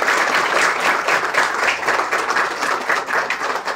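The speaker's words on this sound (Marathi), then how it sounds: "सर्वांनी टाळ्या वाजवा।" An audience applauds at a prize ceremony in a government girls' hostel in Vangaon, Dahanu, Palghar district: a dense, steady wash of many hands clapping, close and loud throughout, with no talk.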